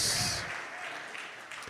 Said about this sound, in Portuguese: Bate uma salva de palmas bem forte para Jesus.